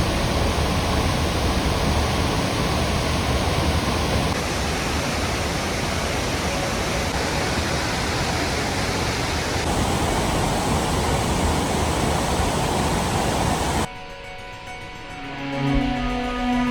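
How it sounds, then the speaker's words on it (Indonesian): Wabudori waterfall flowing heavily from the Supiori mountains through forest toward the sea in Papua, a steady loud broadband roar of rushing water throughout, then a sudden cut to quieter audio near the end. "Air terjun Wabudori, air terjun yang mengalir dari pegunungan Supiori di dalam hutan hingga ke lautan."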